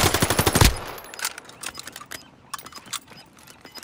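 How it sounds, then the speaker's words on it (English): Rapid gunfire in the video game Call of Duty: Modern Warfare, a loud burst of automatic shots at the start, then scattered single and clustered shots trailing off, with no talk. "Receiving hostile fire."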